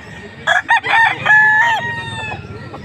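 A young stag rooster at a gamefowl farm in Angeles, Pampanga crows loudly and close by, one full cock-a-doodle-doo with a few short clucks before it.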